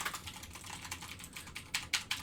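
Typing on a mechanical keyboard with Cherry MX Blue switches: rapid, clicky keystrokes close to the mic, irregular in rhythm with a few sharper, louder presses near the end, no talking.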